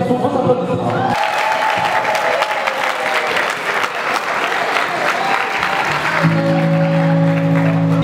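An audience applauds at a live event, a dense, loud wash of clapping that swells and carries on throughout, with background music tones at the start and end.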